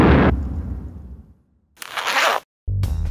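A sudden loud explosion effect standing in for the Big Bang, with a booming burst that decays over about a second into silence, followed by further short noisy bursts.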